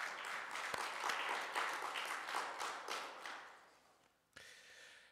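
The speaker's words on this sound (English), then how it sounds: "Give them another round of applause." Audience applause at a spiritual service, a dense wash of clapping that swells and then fades over several seconds, cut off briefly before a short fresh burst near the end.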